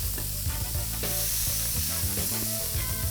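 Slider buns sizzle loudly on a griddle in leftover burger grease, a steady close crackle of frying with occasional scraping or stirring, no voices.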